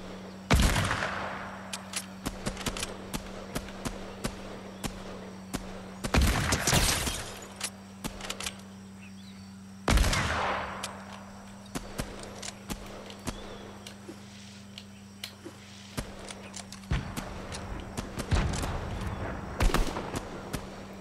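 Bursts of gunfire in a Fortnite Battle Royale match, loud sharp volleys in several clusters separated by quieter stretches over a steady low hum, with no talk in between.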